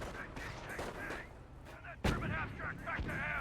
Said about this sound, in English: the US mortar's now firing away